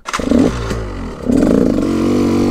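A KTM EXC dirt bike engine revs hard and close, two sharp throttle blips with a rattly, buzzing two-stroke tone, dropping briefly between them before holding at high revs.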